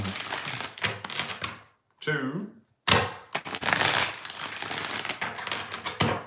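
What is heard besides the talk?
shuffling tarot cards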